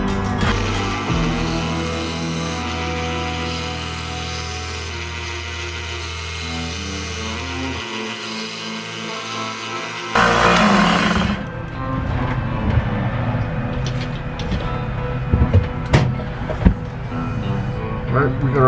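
A Buck 110 folding knife blade is sharpened to finish its bevels after being re-tipped, with steady music giving way to loud, uneven grinding and scraping bursts at close range.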